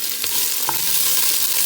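Onions sautéing in a pan for chicken feet adobo, a loud close hiss of frying with a couple of brief utensil taps.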